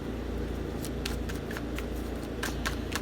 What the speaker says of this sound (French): je vais piger une autre carte avec la spécialisation